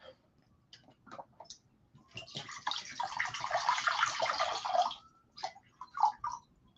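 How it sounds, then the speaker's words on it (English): Water pours steadily from a vessel into a bowl for a few seconds, a close, bright splashing stream, framed by small knocks and taps before and after. "Gonna put some water in this bowl real quick"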